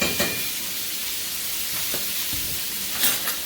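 Rack of lamb sizzles in butter in a pan during basting, a steady frying hiss running throughout with a few brief spoon or pan clatters, close and with no talking.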